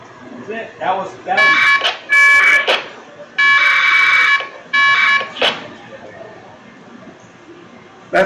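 1200 baud packet radio data tones chirp from an amateur radio in several short bursts going back and forth, loud warbling screeches separated by pauses, with people talking between and around them.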